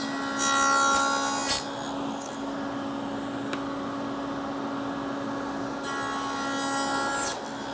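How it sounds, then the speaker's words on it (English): A saw blade cuts a tenon in a wooden test piece for a face frame cabinet, giving a steady, close rasping and whirring that runs almost unbroken and then stops near the end. "I'm going to use this to cut my first tenon and see how close we are."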